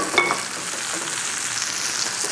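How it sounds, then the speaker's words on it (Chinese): Chicken that was first dry-fried until dry and charred hits a hot wok for three-cup chicken, giving a steady, loud broadband sizzle with a sharp crackle at the start as the pieces go in. "刚刚干煎过、干煸过的鸡， 煸得干干的、焦焦的鸡， 我们把它放下锅，"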